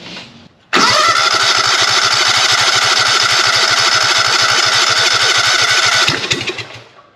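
Racing lawn mower engine cranking with choke and a little throttle, a loud close whirring start with rapid rhythmic chugging pulses that runs steadily for several seconds before winding down.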